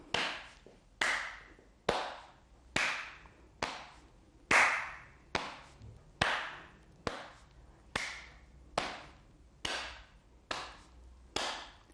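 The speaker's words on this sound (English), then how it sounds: "And back to your tap and clap." A steady series of about fourteen sharp claps and taps repeats at an even rhythm during a seated chair exercise routine, each hit crisp and close with a short decay, and no talking over it.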